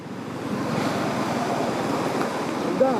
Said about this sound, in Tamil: எப்படி காத்தடிக்குது வேற.